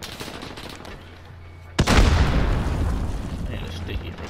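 A single sharp pistol shot in the Call of Duty Modern Warfare video game, a loud close crack followed by a long ringing decay, with faint ambient game noise before it.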